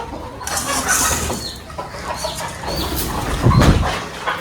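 Free-roaming farm chickens clucking as feed is scattered for them, a busy overlapping clamor of birds close by with scattered louder calls and background noise.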